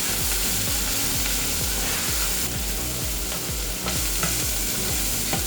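Garlic sizzles steadily in a hot pan with sautéed vegetables for picadillo, a loud, close crackle broken by regular scraping and stirring strokes throughout.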